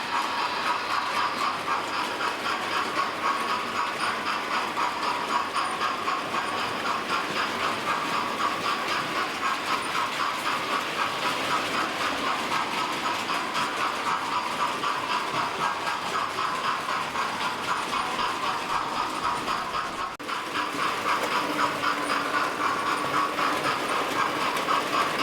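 A weathered Hornby Merchant Navy class model locomotive runs steadily along its track, a continuous mechanical whirring with a rapid clicking rattle of wheels over the rail joints.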